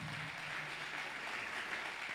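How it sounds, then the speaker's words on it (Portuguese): A church congregation claps together during a worship service, producing a soft, even patter of many hands heard at a distance and held steady throughout, with no talking over it. "Aplauda ao Senhor, irmãos, com alegria no seu coração."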